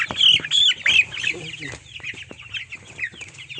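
Chickens on a poultry farm troubled by rats cluck close by in a series of sharp, repeated bursts, busy at first and then thinning into scattered calls.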